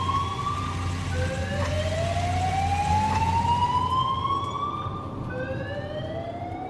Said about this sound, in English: Kimberly and Ronald return their attention to the ambulance.